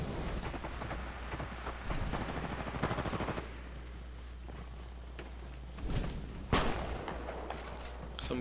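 Sniper rifle shots ring out in a Titanfall 2 multiplayer match: a few loud, sharp cracks stand out amid a low steady hum and scattered distant gunfire.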